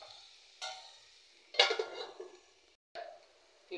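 A utensil scrapes and stirs through spices frying in a pan, in a few short, separate bursts of scraping and soft sizzle with near-silence between them, close and fairly quiet.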